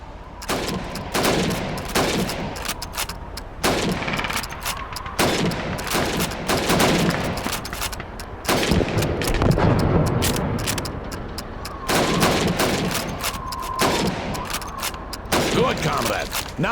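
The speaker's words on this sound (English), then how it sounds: "You have 15 seconds to shoot the helmets." Repeated rifle shots at helmet targets in a Call of Duty 2 training range, sharp loud cracks spaced every second or two through the whole stretch, mixed with background range gunfire.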